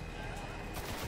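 Gunfire in the video game Destiny: a short, dense burst of shots, steady and fairly loud, with a sharper crack near the end.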